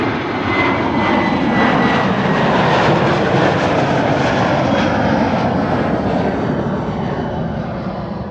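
A fixed-wing airliner departs Amsterdam Schiphol from runway 06 on a sunny morning, its engines a loud, continuous broadband roar that holds steady and fades slightly toward the end.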